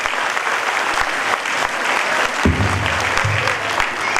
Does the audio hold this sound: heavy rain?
no